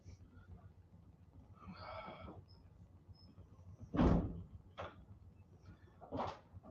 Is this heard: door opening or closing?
yes